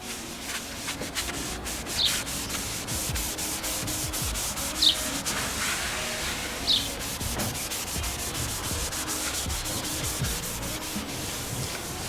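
Hand rubbing of polishing compound across a car headlight on a 9N3 Polo GTI, a steady soft scrubbing friction that runs continuously at close range, with a few faint brief squeaks and no talking.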